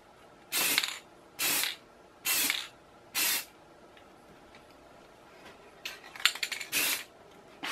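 Spray paint can hissing over masking tape on a Stormy 45 model, four short even bursts followed by a few quicker uneven sprays, close and clear with no talking.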